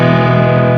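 An electric guitar played on the bridge pickup through a Tone King Royalist amp at a crunchy, overdriven setting, with one sustained chord ringing loud and steady with a slight reverb tail.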